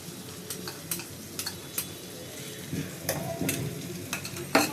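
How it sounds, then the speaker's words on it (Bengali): Ridge gourd and chopped egg stirred while frying in a pan: steady sizzle with repeated scraping and tapping of a spatula, close and fairly quiet, no talk. "এবার খুব ভালো করে এগুলোকে মিশিয়ে নেবো"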